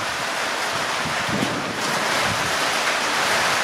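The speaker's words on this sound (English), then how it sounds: "it's raining outside. It's absolutely been pissing down for days now." Heavy, days-long rain pouring down outside a rural property with a waterlogged paddock: a steady, loud, dense hiss of downpour that fills the whole stretch without letup.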